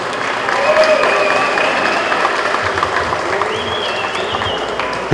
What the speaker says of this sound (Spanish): ¿dónde quedaron los aplausos para estos deportistas?